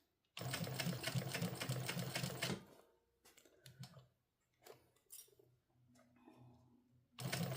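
A sewing machine stitches through the bulky seams of a crossbody bag, running in a loud, steady burst, then pausing for quiet handling and fabric rustles before starting up again at the end.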